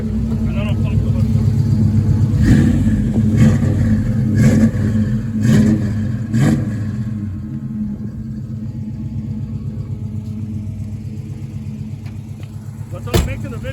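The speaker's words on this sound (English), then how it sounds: "let's listen to the exhaust real quick" Exhaust note of a fully restored 1966 Ford Fairlane at idle, with a loud, steady low rumble and a few brief revs early on before it settles into an even idle.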